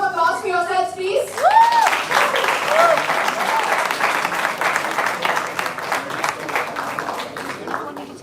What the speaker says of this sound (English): One big round of applause for yourselves